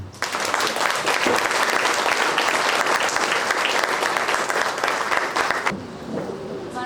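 Loud, sustained applause from an audience at a charity choir's album launch, filling nearly six seconds before cutting off abruptly into a quieter room with faint voices.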